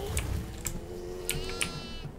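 Goat in the farmhouse horror game Devour gives a few wavering bleats, moderately loud, with sharp clicking ticks interspersed against a quiet, eerie background.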